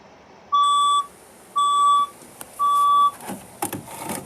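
A building fire alarm under test gives three loud, evenly spaced electronic beeps, each about half a second long, followed by softer clattering and background noise.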